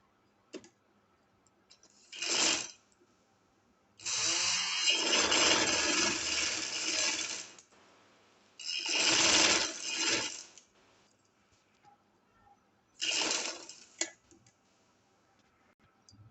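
A sewing machine stitches the shoulder seams of a shirt together, running in four separate bursts of steady whirring, with a long run in the middle and short runs before and after, quiet pauses between.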